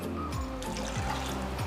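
Water is poured into a thick saucepan of sugar, a close, steady splashing trickle that runs continuously for a moment, with no talk.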